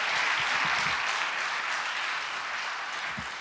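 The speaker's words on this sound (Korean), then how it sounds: "다시 한번 유익한 강의 해주신 이재훈 강사님께 뜨거운 박수 격려해 주겠습니다" An audience at a national pastors' and elders' prayer meeting in a church gives warm, steady applause after a lecture. The clapping is dense and sustained at an even level, with no talking over it.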